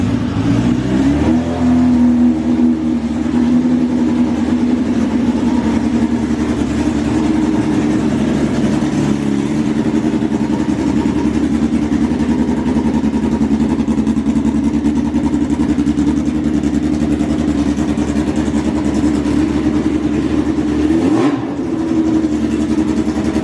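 A sprint race car engine fires up, then holds a loud, steady, rough idle for about twenty seconds before a sharp rev rises near the end. It sounds close and dominant, with no talk over it.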